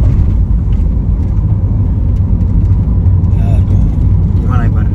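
Strong wind rushes through the open window of a moving car as a loud, low, steady buffeting roar. Brief faint voice-like sounds come near the end.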